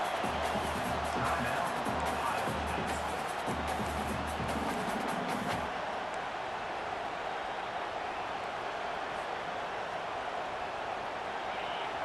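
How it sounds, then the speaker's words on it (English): A stadium crowd in the video game EA Sports College Football 25 roars steadily throughout, with a low rhythmic chant and stomping beneath it for the first half before easing into a broad, even crowd wash. "The roar of the crowd trying to fuel this defense to keep them pinned in their own end."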